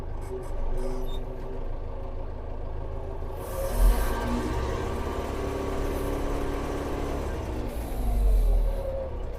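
DTZ 5504NK tractor pulling away in fourth gear in the low range, a steady, fairly faint diesel engine drone with a couple of brief hissing bursts and low thumps as it starts moving.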